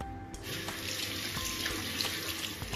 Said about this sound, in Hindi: अब हम इसको वॉश कर लेंगे नॉर्मल पानी से।